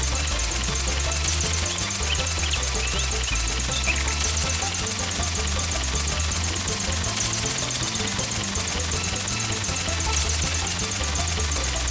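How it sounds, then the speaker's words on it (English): A helicopter in the video game Where's The Blanket, Charlie Brown? flies with a steady, continuous rotor chop and engine drone, loud and unbroken throughout. "The helicopter can't stay up in the air very long."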